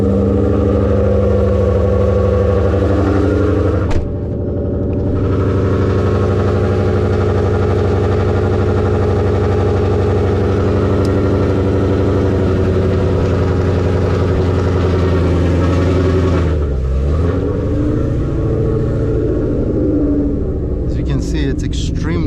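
A deep, rumbling 2013 Ford Mustang 5.0 Coyote V8 with straight pipes idles loudly and steadily close by on a cold start, with a brief blip of revving partway through before settling back to a throaty idle.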